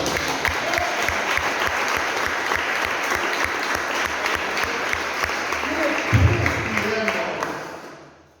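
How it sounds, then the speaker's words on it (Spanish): A church congregation claps loudly and steadily for several seconds, a dense, close wash of applause that fades out at the end, with a few voices calling out beneath it. "Denle fuerte el aplauso."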